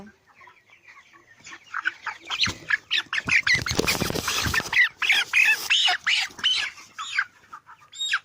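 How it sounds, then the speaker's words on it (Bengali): Broiler chickens cluck and squawk loudly and close by while being weighed on a scale, with scattered calls rising into a dense burst of agitated squawking midway before settling into intermittent clucks. "আমি একটা মুরগিকে মিটারে দিয়ে দিয়েছি"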